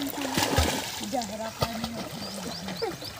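Water splashes and sloshes as a dog plays in it outdoors in summer, with steady watery noise and occasional sharper splashes under a person talking.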